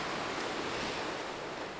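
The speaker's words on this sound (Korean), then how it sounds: "파도는 쉼없이 몰아친다" Ocean waves crash continuously along the East Sea coast, a dense, steady roar of surf with wind-like hiss.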